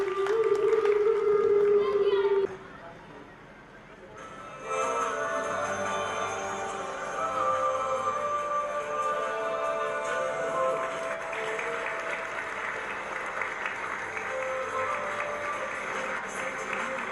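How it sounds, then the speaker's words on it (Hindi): A crowd at a gathering gives loud, sustained applause to encourage children. It begins after a brief tone and a short lull, then carries strongly to the end. "सभी लोगों से मेरा निवेदन है कि जोरदार तालियों के साथ बच्चों का उत्साहवर्धन करें"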